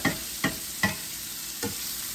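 Oil sizzles quietly as chicken nuggets fry, while a few sharp clinks and scrapes ring out, three in quick succession and one more after a pause.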